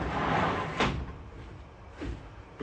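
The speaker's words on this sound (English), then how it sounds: "Sorry, my greenhouse door was slamming." Greenhouse door slamming, with two or three sharp knocks and bangs of the door over steady windy background noise.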